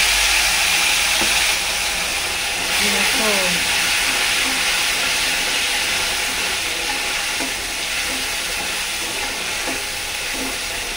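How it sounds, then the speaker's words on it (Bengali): Spice masala with potatoes frying in a pan, a loud steady hiss and sizzle with occasional faint stirring taps, no clear talk. "এবার কিছুক্ষণ মশলাটা কষাবো, তারপরে জল দেবো"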